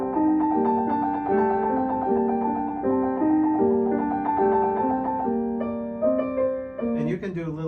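Rapid alternating notes of a piano trill, ornamenting a Baroque-style melodic line, played steadily and clearly at close range before ending with a short flourish, with no talking over it.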